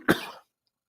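A single short cough, close and fairly loud, ending abruptly into silence.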